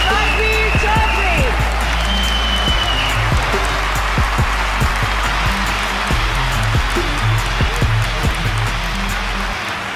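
A crowd at a boxing tournament claps steadily and loudly throughout, with a voice speaking over the applause near the start.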